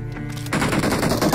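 A rapid burst of automatic gunfire from the BGMI PUBG video game finishes off an enemy, the shots crackling loud and continuous after a brief quieter lead-in, with no voice over it.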